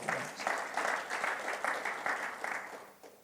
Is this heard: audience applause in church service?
yes